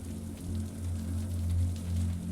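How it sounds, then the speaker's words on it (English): Soft, steady rain patters faintly against glass beneath a low, constant hum, with no voices present. "the trickle of rain down the window"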